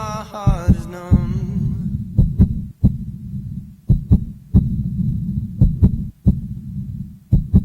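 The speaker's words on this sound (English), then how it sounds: "it's the actual heartbeat of a child in need" A child's heartbeat, looped as a song's beat, thumps in regular doubled pulses, loud and close, right after a singing voice fades out at the start.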